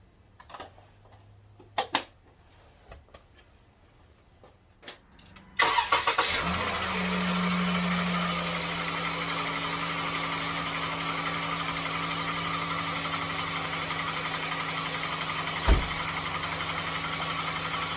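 A 2015 Dodge Journey SXT with a 3.6L V6 cranks briefly and catches after a few quiet clicks and taps, then settles into a steady, even idle, close by with no talking.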